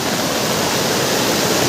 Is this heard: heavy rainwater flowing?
yes